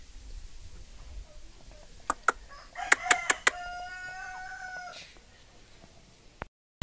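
Native hill chickens on a farm call out in a burst of sharp clucks followed by a drawn-out crow, fairly close and loud over a quiet yard before the sound cuts off.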